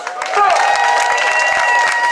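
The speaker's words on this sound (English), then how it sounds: "clap it up for yourselves" A crowd at an outdoor abolition march in New York City claps and cheers loudly. Hand claps rattle steadily under whoops and shouted voices, and the noise stays full and close from start to finish.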